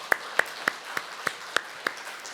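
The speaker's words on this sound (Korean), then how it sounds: "영광의 박수 올려드리십시다" Slow, evenly spaced claps in a church on Easter Sunday, about eight sharp distinct beats ringing out one after another against a quiet room during a worship service.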